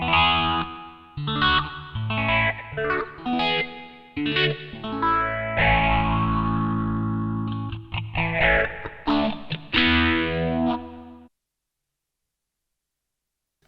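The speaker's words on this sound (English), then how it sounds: "Nice stereo delay. A stereo dual delay by the sound of it." An electric guitar through a Sony HR-GP5 effects unit plays distorted phrases with stereo dual delay repeats echoing after each note, then cuts to silence near the end.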